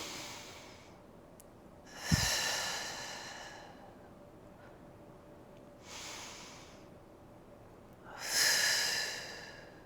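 Slow, deep breaths during a Pilates mat exercise, a few airy inhales and exhales rising and fading at an unhurried pace, close and soft, with no talking.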